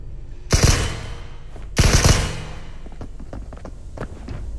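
Gunfire in the extraction shooter game Marauders: two loud, close bursts of rapid shots about a second apart, each with a booming low tail, followed by faint scattered thuds and clicks.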